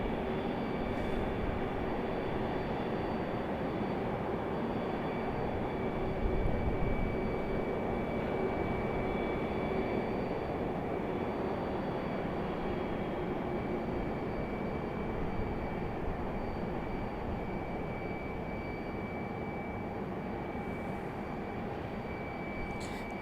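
A Frontier airliner on the runway at Raleigh-Durham International, heard as a steady, broad jet roar that holds at an even level throughout, distant and continuous with no voices over it.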